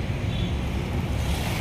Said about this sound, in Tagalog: yung dampi ng alon sa may Dalampasigan